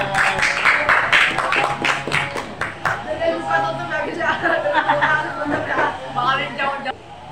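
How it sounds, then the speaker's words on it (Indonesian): Audience applause at an Indonesian school teaching-practice session, a dense steady patter of clapping with crowd chatter running through the whole stretch, fairly loud and close. "beri aplaus untuk saya"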